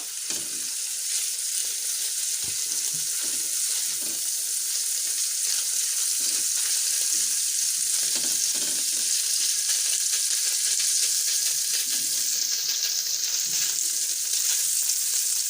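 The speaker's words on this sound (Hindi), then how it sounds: "थोड़ा सा हमने इसको फ्राई करना था 1 आध मिनट, वो हमने कर लिया है।" Garlic-ginger paste frying in oil in a pan for egg fried rice, a loud, continuous hiss of sizzling with occasional light stirring underneath, no speech.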